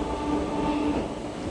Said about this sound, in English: Train, I think, is one of the oldest on the entire rail network.